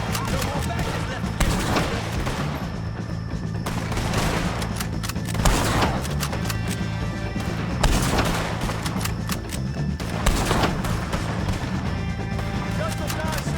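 Rapid gunfire against O'Driscoll gang members in the western video game Red Dead Redemption 2: repeated loud volleys of shots in bursts every couple of seconds, with voices shouting amid the shooting.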